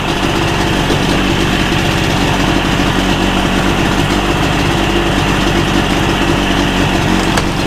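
A 1980s 40 hp two-stroke outboard engine runs steadily at idle in a test bucket or on a hose, a loud, continuous buzzing drone close by with no talk.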